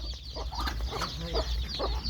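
A mother hen clucks softly with her chicks in a steady series of short, low calls, with thin chick peeps over a constant low rumble of background noise.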